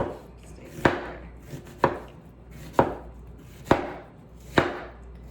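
A knife slices through an onion on a cutting board in five sharp, evenly spaced chops about a second apart, close and clear with quiet gaps between them and no voices.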